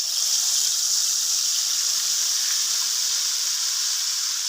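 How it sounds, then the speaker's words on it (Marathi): Whole garam masala spices hit hot oil in a wok, producing a bright, continuous sizzling hiss, loud and close, with no voices over it. "आता आपण हा गरम आपला मसाला टाकून घ्यायचा."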